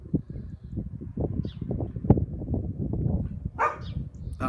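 A dog barks repeatedly in a garden, a run of short, loud woofs close by with a brief higher yelp near the end.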